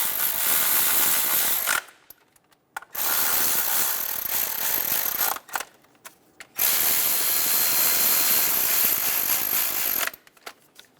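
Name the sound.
tightening valve cover bolts on Honda Accord V6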